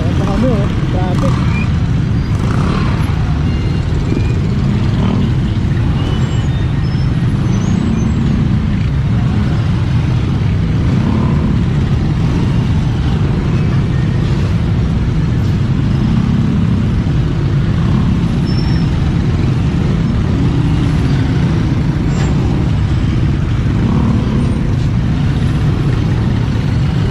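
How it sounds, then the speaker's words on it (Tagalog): Heavy road traffic with trucks and cars forms a loud, constant low rumble of engines and tires with occasional air-brake hisses, and people talk over it. "Ano, traffic."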